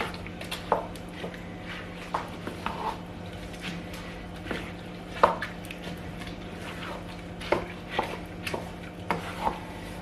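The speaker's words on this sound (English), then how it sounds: "I'm going to be stirring it a bit" A spoon stirs vegetable coconut rice with chicken in a pot, giving repeated scraping knocks and soft squelches at an irregular pace, close and fairly loud against a low kitchen hum, with no talk.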